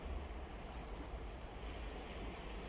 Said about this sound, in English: The waves are lapping.